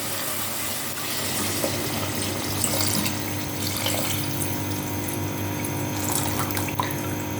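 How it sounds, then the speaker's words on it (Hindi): Water streams steadily from a tap into a cooking pot for chicken yakhni pulao, a continuous close splashing gush that runs the whole time without pause. "अब हम इसमें ऐड करते हैं पानी।"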